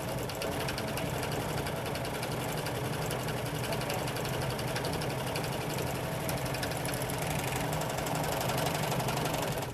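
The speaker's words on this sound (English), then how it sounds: "Serge the piping into the seam." Husqvarna Viking Huskylock 936 serger stitching piping into a fabric seam, a steady dense mechanical whir that runs evenly at moderate level without pause.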